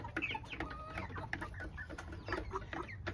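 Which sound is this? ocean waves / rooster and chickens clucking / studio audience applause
rooster and chickens clucking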